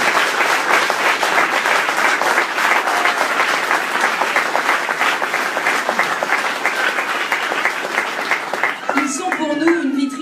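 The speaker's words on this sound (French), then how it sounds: "vous pouvez les applaudir" Audience at a political rally in Carpentras breaking into sustained applause, dense steady clapping that fills the whole stretch and thins near the end as a voice begins speaking over it.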